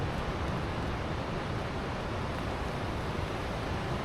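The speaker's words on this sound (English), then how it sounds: "that wonderful steady sound of the wind" Steady, broadband storm wind through Chilterns woodland with no breaks, a constant roar that stays loud and even throughout.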